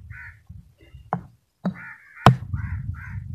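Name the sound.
crows cawing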